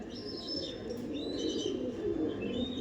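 Pigeons coo softly in a loft, low throaty murmurs running continuously with a few thin chirps above, fairly close and without speech.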